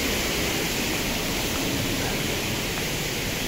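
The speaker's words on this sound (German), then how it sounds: "Da fließen schon ein paar Liter Wasser runter." A small waterfall in Chet Sao Noi National Park, Thailand, pours a steady, full rush of water, a dense broadband hiss that stays constant and close with no breaks.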